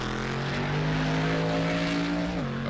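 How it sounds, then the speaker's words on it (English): A Cadillac GT3 race car engine at Zandvoort roars at a high, sustained pitch, holding steady before a quick dip as it shifts or backs off. "Listen to that sound of that engine."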